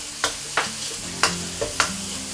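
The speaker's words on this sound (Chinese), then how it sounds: "小米辣和葱段一起给它爆香一下啊" Chopped small chili peppers and scallion pieces stir-fried in hot oil with minced garlic in a wok, sizzling steadily while a utensil scrapes and clanks against the pan in five sharp, evenly spaced strokes.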